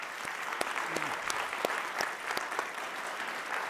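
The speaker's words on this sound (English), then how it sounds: "So a round of applause." A conference audience applauds steadily for a few seconds, a dense, even wash of clapping from many hands with a few sharper claps standing out.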